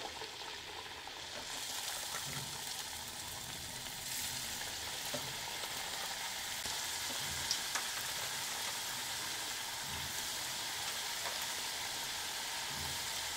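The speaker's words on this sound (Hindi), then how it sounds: "अब ऑयल हमारा गर्म हो चुका है अब हम इसमें एक एक करके चकली को डालते हैं" Chakli pieces frying one at a time in hot oil, a steady, fairly quiet bubbling sizzle that continues throughout, close and without talk.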